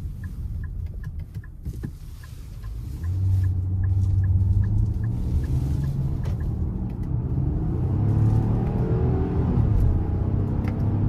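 A 2023 Nissan Pathfinder Platinum accelerates in sport mode with paddle-shifted gears, its engine rumbling steadily from inside the cabin and rising in pitch with each shift, with the drone building louder partway through.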